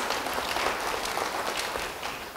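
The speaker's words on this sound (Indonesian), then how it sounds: "Yang setuju beri tepuk tangan bagi dia." A church congregation applauding, a short burst of dense clapping from many people, fairly steady and then tapering slightly.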